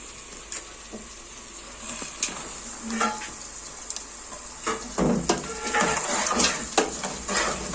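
Onions sizzling in a pan with garam masala for white chicken pulao, a steady soft fry with intermittent scrapes and clinks of stirring that grow busier toward the end.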